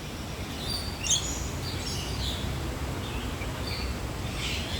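Small birds in an aviary at a Hong Kong botanical garden chirp in a few faint, scattered calls over a steady ambient outdoor hiss.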